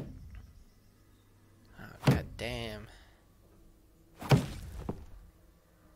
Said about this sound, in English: he's kicking the door, the wall.